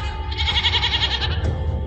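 A young goat kid tied with a rope bleats loudly in distress, one long wavering cry over a low rumbling background, with no talking.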